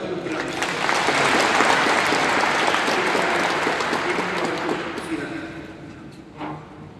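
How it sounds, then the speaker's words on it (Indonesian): Audience applause for pianist Brahms Mulyawan after a Chopin Fantaisie-Impromptu performance at GRII Pusat church, a dense sustained clapping that swells early, holds, then thins out toward the end with a few stray claps. "Kita sekali lagi tepuk tangan untuk Brahms."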